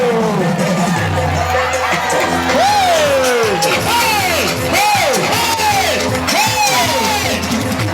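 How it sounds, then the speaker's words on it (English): A loud crowd at a dance show cheers, yells and whoops nearby, the shouts rising and falling in repeated bursts over a steady wash of noise that fills the whole stretch. "Ladies and gentlemen, make some noise. A round of applause for Dance Beach."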